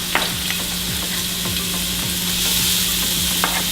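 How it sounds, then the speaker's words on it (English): Onions and garlic sautéing in a pan for breakfast fried rice, a steady close sizzle throughout with a low hum underneath and repeated scraping stirs roughly every half second. "I love when onion and garlic are sauteing, the smell."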